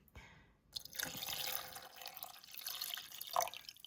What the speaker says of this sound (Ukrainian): Я зараз сюди долью ще водички, а по рецепту йде 190 мілілітрів водички.